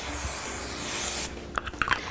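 Hairspray hisses in one steady burst over hair set in rollers for a bit more than a second, then stops, followed by a few small clicks and rustles up close.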